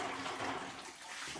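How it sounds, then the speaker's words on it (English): Cold water poured into sugar syrup being made to feed bees, a brief soft rushing splash of water running steadily into liquid, close and fairly quiet, with no talking. "Now I'll just go ahead and add some cold water."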